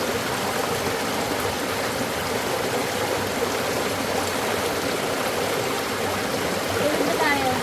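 Steady rushing of a shallow river at a riverside campsite in Bulacan, a continuous broadband wash of flowing water with faint voices murmuring underneath.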